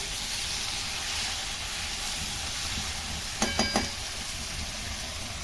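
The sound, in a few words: stirring frying bitter gourd in a pan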